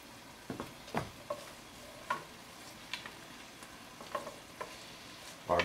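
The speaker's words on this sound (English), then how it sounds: "Our garlic is starting to saute." Garlic sautéing in a pan gives a faint, steady sizzle broken by scattered soft pops and clicks, with no voices over it.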